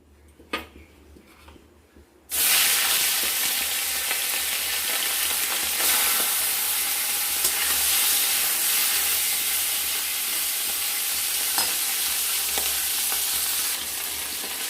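Hilsa fish heads frying in hot oil spiced with cumin, coriander powder, whole cumin and a dried chilli, a loud, steady sizzle that bursts in abruptly and holds continuously, with occasional faint clinks of a spatula.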